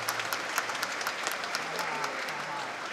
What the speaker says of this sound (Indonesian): Kita beri aplaus untuk paduan suara hari ini.